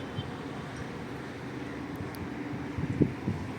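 Cold wind blowing across an open outdoor spot, a steady low rumble buffeting the microphone throughout, with a few soft bumps near the end.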